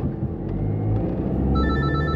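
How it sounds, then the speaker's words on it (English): A mobile phone rings inside a car, a bright repeating electronic tone that cuts in partway through over a low, steady engine rumble, close and clear with no one speaking. "Every time I get behind the wheel of a car, my phone rings"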